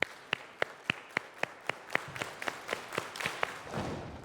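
Children at a church children's service perform body percussion, clapping and stomping a steady, evenly spaced beat of about a dozen crisp hits. The pattern loosens toward the end and gives way to softer rustling.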